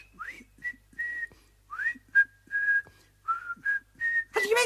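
A person whistles a short series of rising and steady notes, with brief pauses between them, close and clear, ending with a breathy burst.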